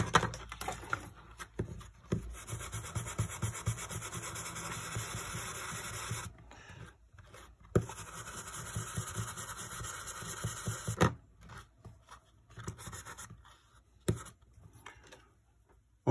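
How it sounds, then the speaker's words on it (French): A fiberglass brush scrubs a metal part from a Ferrari 410 S, rasping in steady close strokes with a few short pauses and quieter scratching toward the end. "J'utilise une brosse à fibre de verre"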